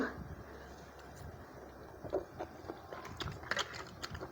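Someone eats noodles with crispy fried wontons, with faint, close biting and chewing and a few soft crunches that cluster in the latter half, over quiet room noise.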